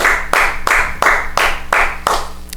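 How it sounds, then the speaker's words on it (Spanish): A church congregation claps in unison during a service, loud sharp rhythmic beats about three per second, close and strong, with no talking over it. "Dar un aplauso a Jesús."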